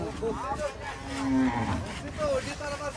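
Cattle at the Diabari cattle market, with a cow lowing in a long close moo over the busy crowd murmur of the market.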